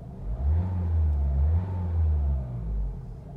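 Engine of a 2021 Mercedes A-Class with AMG package revving, a deep throaty rumble that swells, eases briefly and rises again before fading, heard alone without voices.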